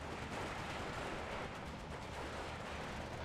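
Continuous artillery bombardment in the wartime strategy game Steel Division 2, a dense, rumbling wall of distant booms and blasts blending into a steady roar with no clear pauses.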